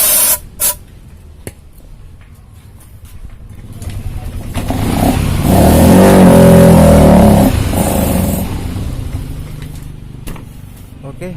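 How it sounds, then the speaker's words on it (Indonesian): Carb cleaner hisses as it is sprayed into the running engine of a Yamaha Lexi scooter that stalls and is hard to start. The spray is brief at first, then swells into a loud, sustained burst while the engine note rises with it. "kita pancing dulu pakai carbo cleaner ya"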